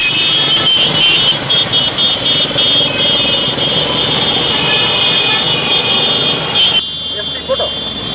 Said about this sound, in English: CWC leader Senthil Thondaman, among others, reached the rally in a motorcycle parade